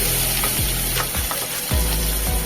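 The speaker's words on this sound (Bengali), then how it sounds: "তেল গরম হয়ে এলে ম্যারিনেট করে চিংড়ি মাছগুলোকে ফ্রাই করে নিতে হবে" Marinated shrimp fry in hot mustard oil, a loud, steady close sizzle filling the whole stretch with occasional soft knocks of a utensil stirring in the pan.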